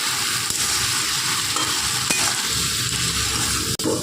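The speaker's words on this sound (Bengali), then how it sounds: "মামনি সবজিগুলো নেড়ে নিল, জল বেরোতে লেগেছে আর সবজির কাঁচা গন্ধটাও চলে গেছে" Mixed winter vegetables sizzle steadily in a pan as they are stirred, a continuous close hiss broken by a few knocks and scrapes of the utensil, with no talking.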